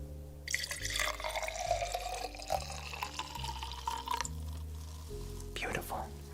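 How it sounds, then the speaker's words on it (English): A drink is poured into a glass at a fancy restaurant table, a soft, continuous trickle over faint background music while someone whispers. "I'll pour you a glass as well."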